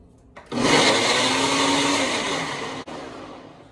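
A blender making a turmeric smoothie roars to life with a loud, steady whir for a couple of seconds, then cuts off abruptly.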